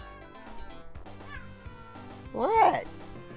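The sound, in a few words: cat meowing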